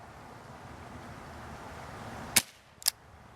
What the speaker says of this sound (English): Here's a look at a different view of the gun while firing.